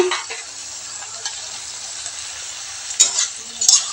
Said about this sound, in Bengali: বেগুন আর আলুটা এখন দিয়ে দিব, দিয়ে একটু ভেজে নিব।